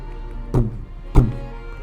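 Artillery in a Total War: Warhammer III battle, a Kislev army's Little Grom firing: two dull, heavy booms about half a second apart, each a short thump over a steady low hum.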